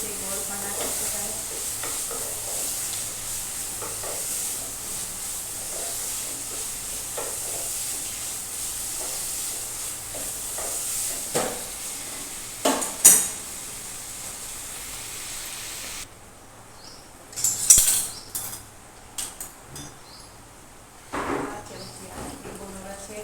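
A vegetable curry with added sugar and lemon juice fries in a pan with a continuous sizzling hiss, broken by intermittent scraping and clattering stirring strokes that grow sparser and quieter toward the end.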